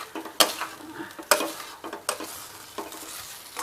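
A spoon scrapes and stirs thick semolina halwa cooked in ghee in a pan with soft sizzling, a few sharper scraping strokes standing out against a quiet background.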